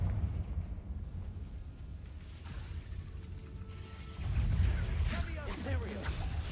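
A Confringo blasting spell goes off in the Hogwarts Legacy video game, a heavy low rumbling burst that swells loudly midway amid game noise, with a voice speaking over it.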